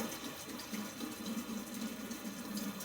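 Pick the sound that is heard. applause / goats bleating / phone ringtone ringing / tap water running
tap water running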